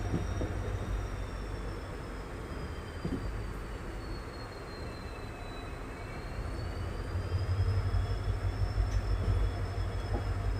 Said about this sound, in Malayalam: നമ്മുടെ ട്രെയിൻ എങ്ങനെയാ മൈസൂർ ബാംഗ്ലൂർ മെയിൻ ലൈനിൽ നിന്ന് മാറിക്കൊണ്ട് ഇപ്പോൾ മൈസൂർ ആസൻ ലൈനിലൂടെയാണ്